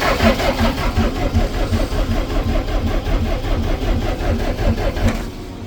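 A DAF LF45 bus engine cranks over and over in the cold at -6C without catching, a loud rhythmic chugging of the starter that runs for several seconds before stopping.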